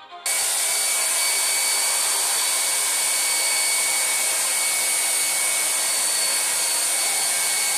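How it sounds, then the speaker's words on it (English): A hair dryer switches on and runs steadily with a loud, continuous high-pitched whir and airflow roar, close up and alone. "I'd say the hairdryer technique works well."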